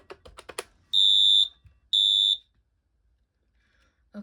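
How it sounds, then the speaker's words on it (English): An old Solitaire 1000B payphone's ringer sounds two short, shrill, evenly spaced bursts, loud and close, after a few soft handling noises, then silence. "it's one of those old scratchy sound ringers"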